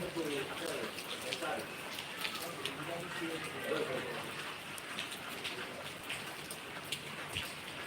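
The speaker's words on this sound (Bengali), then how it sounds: "আমাদের এখানে প্রচুর বৃষ্টি হচ্ছে" Steady heavy rain hisses throughout, a dense continuous patter with occasional louder drops, while voices talk faintly underneath.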